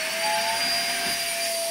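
A large motorized crab cleaner's suction motor runs steadily and loudly, a continuous vacuum-like whine and rush with no talk over it.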